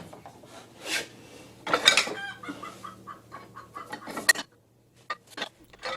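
Chickens in a coop on the other side of an old barn wall cluck and squawk in scattered bursts, somewhat muffled, with short gaps of quiet between calls and faint workshop clatter.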